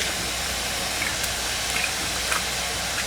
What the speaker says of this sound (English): Saute the ground pork